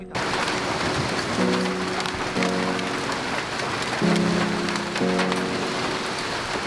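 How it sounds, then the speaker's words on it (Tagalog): Heavy rain pours down steadily in a dense, continuous hiss on a beach in Mati, Davao Oriental, with a few tonal notes sounding faintly beneath it. "bumuhos ang napakalakas na ulan"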